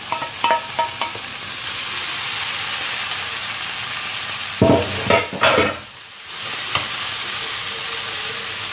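Minced-meat meatballs and meat fry in a pan for tacos, giving a steady sizzle that runs throughout. A cluster of scraping, clattering stirs breaks in near the middle.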